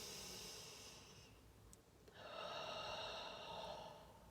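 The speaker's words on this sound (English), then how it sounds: "So some nice deep breaths" Slow, deep breaths drawn and released during a manual jaw stretch, a soft airy hiss close to the ear with one long exhale, a short pause, then another sustained breath, quiet and steady with no talking.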